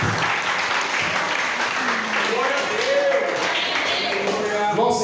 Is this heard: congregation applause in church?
yes